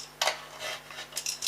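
A blade cuts a strip of cardboard for a handmade baby mini album, giving a few short, close scraping strokes separated by brief pauses.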